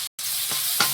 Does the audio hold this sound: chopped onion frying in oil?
yes